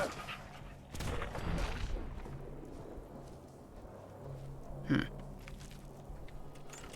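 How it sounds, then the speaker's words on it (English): An attack dog in Fallout 4 snarls and pants close by in a junkyard, with rough bursts of noise and a thumping impact amid game sounds. "Attack dog."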